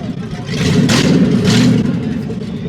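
A Toyota Supra's V8 engine revs hard twice, deep low rumble with rising roars, loud and close, with faint voices in the background.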